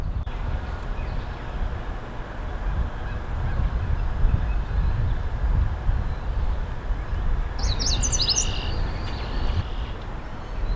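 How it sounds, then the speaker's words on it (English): A male yellow warbler sings at Horn Pond in spring, a short, faint, high bright phrase heard once near the end over a steady low rumble of wind and background noise. "This is a male yellow warbler."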